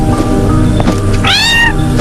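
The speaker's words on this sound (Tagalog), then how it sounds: "Parang mukhang ligaw na pusa yung hawak mo." A stray cat meows loudly and close by, one drawn-out, wavering call rising from a steady background, heard alone with no talking.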